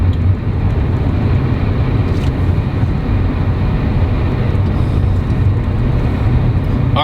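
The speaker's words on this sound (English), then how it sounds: "there's like wind noise coming from the rear somewhere" BMW E39 M5 driving along with a rushing wind noise from the rear of the cabin, a steady loud broadband roar over the engine's low drone, continuous and without talk.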